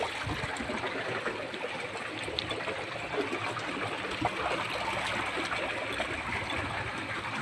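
Cold stream water flows steadily over rocks, a continuous broadband rush and trickle at close range with no break across the whole stretch.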